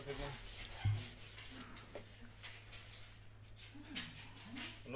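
Sandpaper rubbed over the wing of a SLEC Sky 40 model airplane, repeated close scratchy strokes in an uneven rhythm, quiet with no talking.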